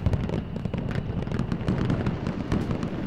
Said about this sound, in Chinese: 见过这么多烟花，从来没见过这种